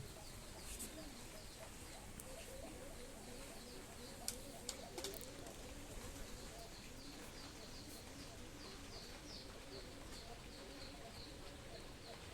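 Soft, low cooing of domestic pigeons on a village farm under a constant hiss of steady rain, with occasional faint chirps and light clicks.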